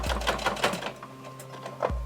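A sewing machine stitching a messenger bag, its motor humming and needle running in rapid, rhythmic bursts that pause briefly before starting again, heard up close.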